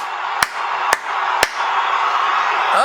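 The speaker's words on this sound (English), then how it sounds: "Listen to the crowd." A roaring stadium crowd at an NFL playoff game, the NFC Championship between the Seahawks and Packers: a steady, loud wash of cheering with three sharp percussive claps early on and a swelling roar toward the end.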